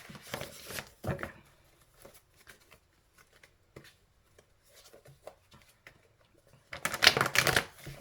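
Tarot cards being shuffled by hand, short crisp riffling bursts at the start and a longer louder flurry near the end, with quiet gaps and soft handling noises between.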